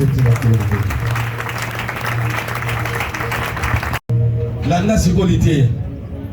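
A church congregation claps and cheers for Jesus, with steady loud applause and voices for about four seconds, a brief cut, then more cheering and a raised voice.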